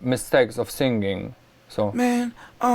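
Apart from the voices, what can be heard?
No everyday noise stands out behind the speech.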